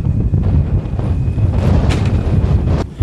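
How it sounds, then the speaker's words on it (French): Wind buffeting the microphone on a ski slope at Alpe d'Huez on a cold winter morning, a steady loud rumbling roar throughout with a few brief gusty surges, no talk. "Il y a du vent"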